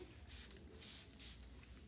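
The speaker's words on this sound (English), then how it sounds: "I'm going to spray down my bed" Alcohol sprayed from a spray bottle onto a facial bed during a state board facial setup; three hissy bursts come close together at moderate volume over a quiet room.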